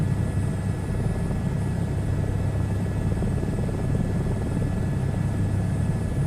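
A helicopter's rotor in Microsoft Flight Simulator 2024 throbs steadily and loudly, a constant low chopping rumble with no pauses.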